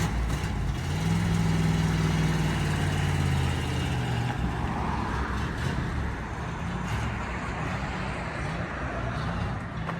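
A 1967 Ford F100 engine with a leaky carburetor runs after sitting abandoned for 20 years, giving a steady, close, rough idle rumble that dips slightly in loudness partway through.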